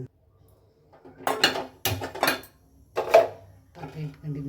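A cooking pot is set down for tempering while drumstick-leaf rasam is made, giving a few sharp metallic clanks and knocks amid kitchen handling, with a person talking in between.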